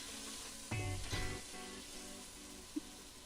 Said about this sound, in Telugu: ఇప్పుడు పుదీనా ఆకులు, కొత్తిమీర ఆకులు వేయండి. వీటిని బాగా ఫ్రై చేసుకున్న తర్వాత